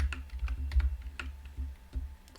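Someone types code on a computer keyboard, a quick run of soft, close clicking keystrokes in irregular bursts, with no talking.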